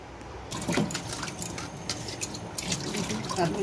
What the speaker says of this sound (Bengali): মাশরুমের আঁচগুলো ছাড়িয়ে নিয়েছি, এবারে একটু পরিষ্কার করে ধুয়ে নেব।